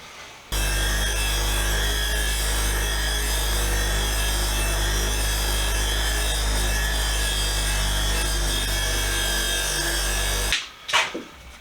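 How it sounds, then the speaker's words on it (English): A power wire wheel grinds steadily against a small metal fuel can, a loud continuous whirring buzz with a low motor hum that runs unbroken for about ten seconds, then cuts off, followed by a couple of brief clunks. "probably throw it on the wire wheel"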